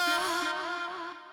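A distorted vocal sample in a techno track holds one sustained pitch, heavily driven and bright, with a lingering echo tail that fades gradually over about a second.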